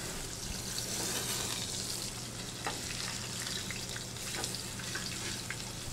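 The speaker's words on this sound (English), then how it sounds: "the Mediterranean sea bass goes right in there with the garlic and the olive oil" Mediterranean sea bass sizzles and crackles in hot olive oil with garlic, a steady close frying hiss with occasional sharper pops.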